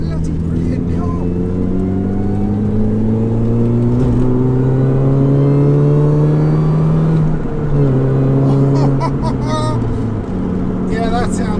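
A modified Mini R53 Cooper S supercharged engine revs and drones steadily, its pitch climbing and dipping through gear changes, loud and close for several seconds.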